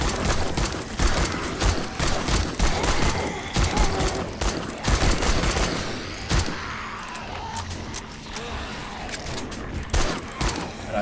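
Repeated gunfire from a weak gun in the video game 7 Days to Die during a horde night in a large city, a rapid burst of shots and clatter running almost continuously, loud and close, with no talking.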